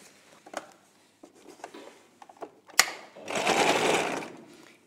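A sewing machine runs a continuous stitching burst of about a second and a half along a seam on a child's dress, preceded by softer handling clicks and taps.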